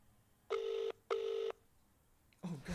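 A telephone ringback tone on speakerphone sounds twice in a quick double burst, quiet and slightly tinny, followed by the start of another sound.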